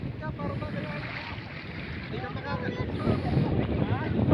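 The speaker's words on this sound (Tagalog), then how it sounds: "Napakalakas po sa labas yung hangin na yan." Strong wind blows outdoors, a loud continuous roar buffeting the microphone with rumbling low gusts, while a voice speaks underneath.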